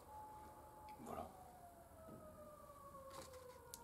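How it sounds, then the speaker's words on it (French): An ambulance siren wails outside in a city street, a faint, steady tone gliding slowly downward as it passes at a distance beneath low background noise. "merci la sirène de l'ambulance"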